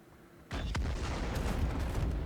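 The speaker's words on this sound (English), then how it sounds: "now we have a secondary explosion and now everything is destroyed" A secondary explosion in a space combat video game erupts suddenly after a brief quiet lead-in, a loud, sustained roaring blast with crackling debris that continues to the end.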